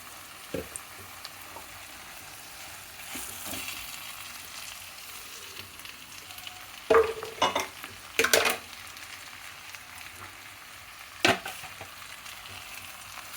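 Fine wheat rava roasting in a pan with tempering spices for upma, a low dry sizzle with scattered sharp scraping and clinking of a spoon against the pan, louder in a few bursts.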